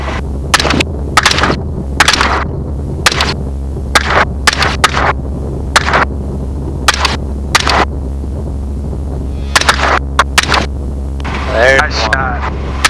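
Helicopter hog hunt gunfire: a rapid string of loud, sharp shots in irregular bursts over a steady rotor drone, with a brief voice near the end.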